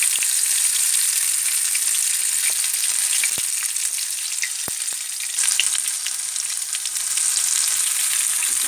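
Tofu and soya nugget pakodas frying in hot oil, a dense continuous sizzle with crackling pops scattered through, close and steady with no talk.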